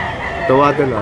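A rooster at a busy poultry market in Lipa, Batangas lets out a short, loud crow close by, with a voice speaking over it.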